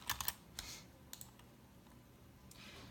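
Keys tapped on a computer keyboard while numbers are typed into a form: a quick cluster of clicks at the start, then a few sparse taps, all faint and close.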